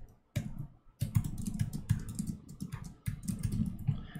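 Fingers tap out quick bursts of keystrokes on a computer keyboard, close and clear, with short pauses between flurries and no speech.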